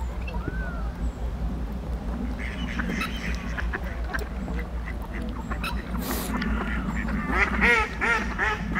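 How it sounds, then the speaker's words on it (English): Ducks quack repeatedly on a garden pond in a landscaped estate garden, calls scattered and clustering more densely toward the end over a steady low background hum, fairly close and clear. "just listen to the ducks quack and just enjoy this peace and tranquility"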